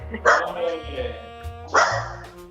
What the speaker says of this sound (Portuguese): o cachorro resolveu latir aqui